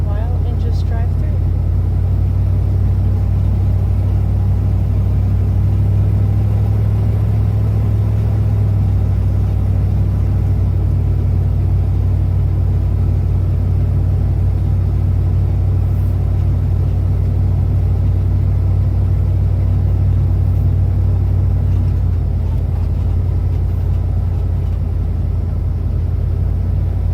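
Deep, steady engine rumble from an RV cruising through Vicksburg Military National Park, a continuous loud low drone with road noise and little change throughout, and no one talking.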